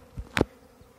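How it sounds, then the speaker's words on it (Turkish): A brief buzzing burst from a honeybee swarm, like a bee darting close past, with faint softer hums around it. "Şu anda arılar zorluyor habire."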